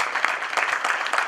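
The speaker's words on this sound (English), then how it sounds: "Let's give him a round of applause," An audience at a school panel event applauds Dr. Hamilton with dense, steady clapping from many hands that fills the whole short moment.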